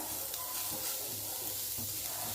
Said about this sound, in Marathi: सर्वप्रथम कांदा भाजून घ्यायचा आधी त्याच्यामध्ये थोडंसं तेल टाकून घेऊया